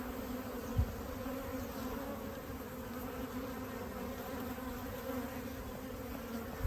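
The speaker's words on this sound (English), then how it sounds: "These bees are really super busy." A steady, dense hum of many honey bees buzzing close by around their hives, continuous and unbroken with no talking.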